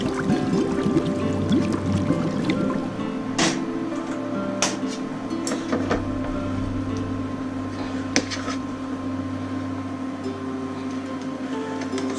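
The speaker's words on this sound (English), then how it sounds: "now add hot water until it just covers the ribs" Hot water is poured into a pot of spareribs with ginger, a steady splashing trickle with a low hum behind it and a few small clinks.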